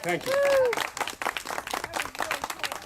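Scattered applause from a modest audience at a cattle-handling demonstration, clapping sounding through the whole stretch while a voice speaks over the start.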